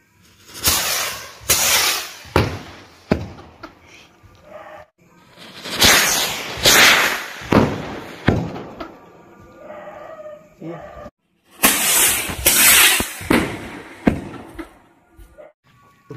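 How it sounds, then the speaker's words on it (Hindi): Two Aasman Tara firecrackers lit together burst in a series of loud, sharp crackling and hissing bursts, each a few seconds long and separated by brief pauses, going off one after another rather than all at once. "तो चलिए अब आसमान तारा को एक साथ दो को जोड़कर जलाते हैं"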